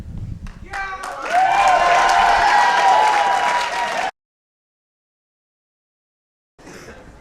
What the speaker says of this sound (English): I don't get the same kind of applause